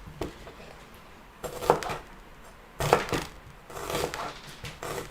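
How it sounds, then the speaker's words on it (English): A knife chops half an onion on a board, a few irregular bursts of cutting strokes with dull thuds and light clinks against quieter background, no voices during the chopping. "So cut roughly half an onion."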